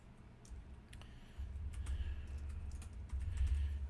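A computer keyboard being typed on during Photoshop work, with soft, quick key clicks in irregular bursts over a low background hum, close but faint.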